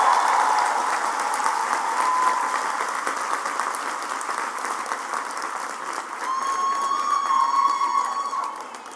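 A university commencement audience applauds loudly and steadily, many hands clapping at once with a few cheers, swelling again toward the end.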